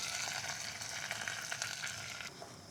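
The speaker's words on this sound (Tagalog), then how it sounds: "Igisa natin." Taro (gabi) sautéing in a pan at an overnight campsite, producing a steady, bright sizzle that carries on unbroken and fairly close with no talk.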